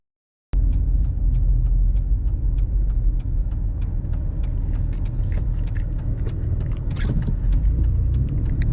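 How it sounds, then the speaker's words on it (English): A car drives and drifts in a video game after an abrupt start: a steady, loud rumbling engine broken by sharp repeated clicks and scraping bursts, with no voices. "I think that's him driving around. He's trying to drift."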